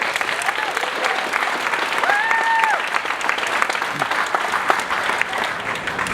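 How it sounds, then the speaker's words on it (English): Steady applause from an audience fills the whole stretch, dense clapping with a brief tonal sound rising over it midway. "Let's give a round of applause"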